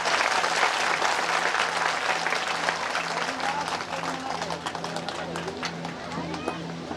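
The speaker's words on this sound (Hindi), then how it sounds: "जरा जोरदार ताली बजाइए।" A large audience claps loudly and continuously at an outdoor religious darbar in Mau village, a dense, sustained wall of applause with a faint low hum beneath it.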